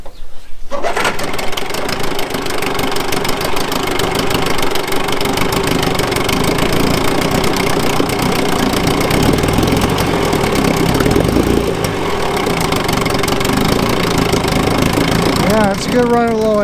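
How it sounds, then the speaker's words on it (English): Small outboard engine on a 1982 Aqua Swan 14 ft boat idling steadily, loud and close with a continuous putter, dropping off briefly near the end; someone talks over it. "it's a good running little engine. Sorry, I didn't have the valve open on the gas tank. Runs good, man. You sit there and idle."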